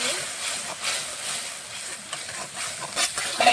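Spice paste of salt, turmeric and chili powder sizzling as it is fried in a pan for a fish dish, a steady bright hiss with small crackling bursts near the end.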